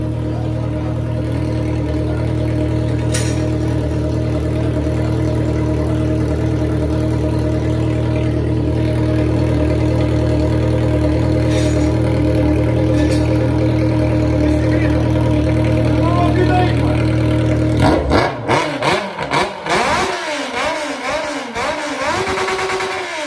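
A Yamaha XJ6 motorcycle with a straight-pipe exhaust idles loudly and steadily up close, its low rumble holding for about eighteen seconds before a burst of sharp throttle revs.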